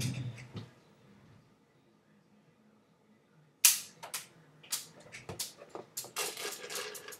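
A homemade BB gun built from tape, a pen, a mechanical pencil and a rubber band fires several sharp, close snapping shots after a quiet stretch, with light clicks and rustles between them.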